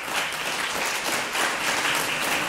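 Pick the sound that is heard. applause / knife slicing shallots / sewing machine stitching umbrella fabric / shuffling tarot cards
applause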